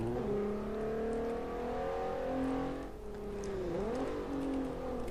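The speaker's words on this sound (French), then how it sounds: "Donc cette voiture, elle fait beaucoup de bruit. Elle fonce." A video game car engine revs and drones steadily, pitch rising and dipping as it accelerates, loud and close throughout.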